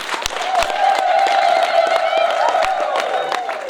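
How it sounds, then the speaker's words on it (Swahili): A crowd claps and cheers for the Cardinal at the inauguration of an emergency medical building, steady dense applause with whoops, close and loud throughout. "piga makofi mengi kwake"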